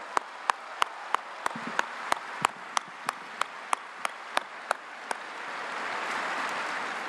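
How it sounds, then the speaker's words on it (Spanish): Sparse, slow, evenly spaced claps for a president at a public event in Mexico, a single crisp strike about every third of a second, with a denser wash of crowd applause swelling near the end. "Un aplauso para el presidente González."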